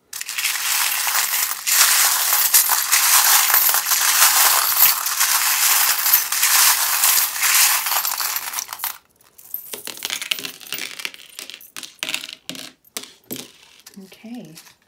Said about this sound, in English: Some people love the sound of the charms, some people find it too loud.